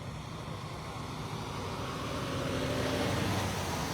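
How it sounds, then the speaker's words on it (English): Steady traffic rumble at a busy Love's truck stop in Toomsuba, Mississippi, with trucks and cars idling and moving, a continuous low drone building slightly louder over a few seconds, no talking. "A busy truck stop, one of the busiest in the areas here at Loves Truck Stop"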